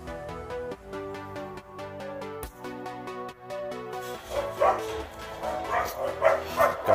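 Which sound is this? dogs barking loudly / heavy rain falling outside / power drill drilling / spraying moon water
dogs barking loudly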